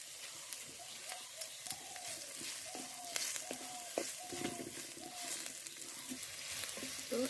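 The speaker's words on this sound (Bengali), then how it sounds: "প্রথমে একটু তেল দিয়ে পেঁয়াজ দিয়ে দেবো, রসুন দিয়ে দেবো কালো জিরে" Onion, garlic and black cumin frying in a little oil, a soft steady sizzle with intermittent stirring scrapes, close but quiet.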